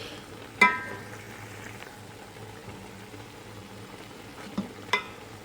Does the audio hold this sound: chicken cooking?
yes